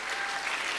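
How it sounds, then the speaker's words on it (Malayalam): Audience clapping steadily at a reading day commemoration event at a school gathering, a dense, continuous wash of hands filling the room without pause and no voices over it. "നല്ലൊരു കയ്യടി കൊടുക്കാം"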